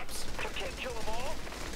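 Rapid gunfire in Saints Row: The Third during a co-op heist, crackling steadily through the short moment with excited voices talking over it.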